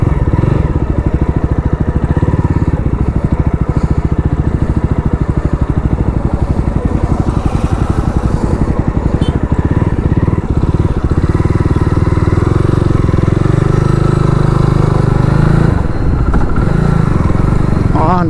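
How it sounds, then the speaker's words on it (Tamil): A 2025 Jawa 42 Bobber motorcycle on the move gives off a continuous, close engine rumble with mechanical clatter, its pitch shifting slightly with throttle, while someone talks over it throughout. "ஐ ஆம் ரைடிங் பாபர் ஸ்டைல் பைக்கு"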